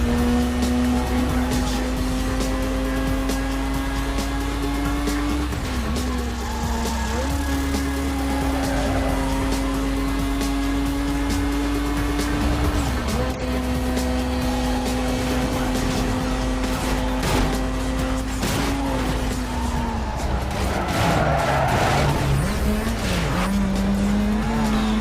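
Racing car in Need for Speed: Most Wanted (2005) on Xbox 360, a loud steady engine drone running throughout with tire squeal and skidding as the car slides through a missed turn.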